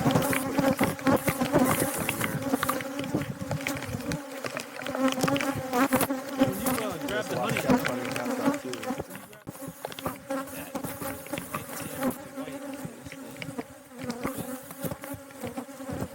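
Bees buzz around a hive in a dense, steady drone that stays close and loud for the whole stretch, with many overlapping wingbeats and no pauses.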